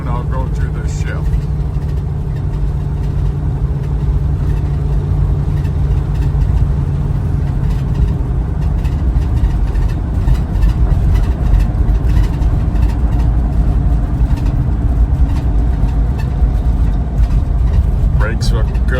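A 1985 Chevrolet Blazer engine drones steadily at low pitch while driving, a continuous rumble with someone talking over it throughout.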